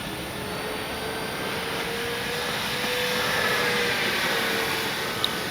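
An FGFRC P-51D RC warbird plane takes off in still air, its motor giving a continuous, steady drone with a faint whine that swells slightly midway, fairly close and with no voices.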